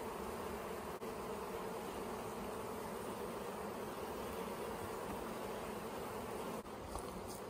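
Agitated honey bees buzz at a hive on a strong October colony in South Alabama, a dense, continuous swarm drone close by with no talking.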